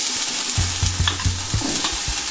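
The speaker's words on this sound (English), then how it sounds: "So the first thing we're gonna do is to saute the onions." Onions and garlic sizzle in a preheated pan for a homemade Dominican sancocho, a steady hiss under repeated soft knocks and scrapes of stirring, with no talking.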